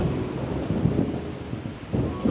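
Low thunder rumbles steadily under rain during an outdoor workout, a continuous, fairly loud wash with soft swells and no voices.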